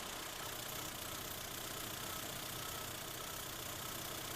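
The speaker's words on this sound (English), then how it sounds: "Start the engine and check fuel pressure." A Rover car engine with 1989 MEMS engine management idles during a fuel pressure check, a faint, steady, even hum with a slight knocking texture and no voices over it.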